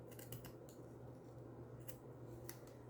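Faint, crisp snips of scissors trimming paper edges at an angle, a few quick cuts in small bursts over a steady low hum, no talking.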